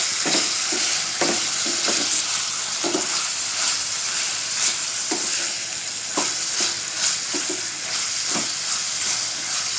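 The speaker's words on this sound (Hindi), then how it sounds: "इसलिए इसको अच्छे से हम भून कर लेंगे कलर चेंज होने तक" Large tiger prawns fry in hot ghee and oil for a Konkani prawn masala, a steady close sizzle broken by repeated scraping stirs of a spoon in the pan.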